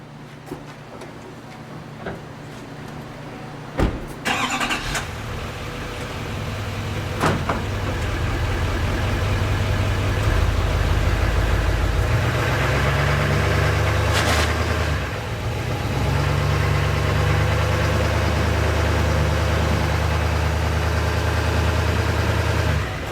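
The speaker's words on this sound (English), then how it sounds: "Let's go ahead and back the truck up a little bit." A Peterbilt dump truck's diesel engine rumbles steadily while the truck backs up, a low idle rising in load for most of the stretch, with a few sharp metallic knocks early on and no talk.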